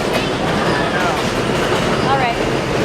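A train riding along tracks into New York City, a steady loud rumble with rhythmic rail clatter and faint wheel squeals, with people talking inside the carriage.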